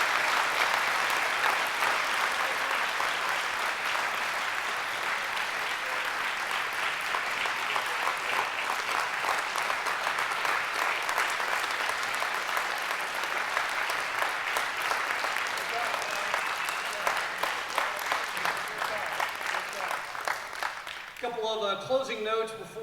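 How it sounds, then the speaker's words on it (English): Sustained audience applause honoring eight inductees at an evening ceremony, a dense, steady roar of many hands clapping for about twenty seconds before it thins out and a voice begins speaking at the end. "would you please give them one final round of applause for their accomplishments here tonight?"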